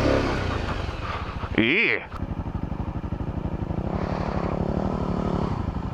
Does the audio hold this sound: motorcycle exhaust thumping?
yes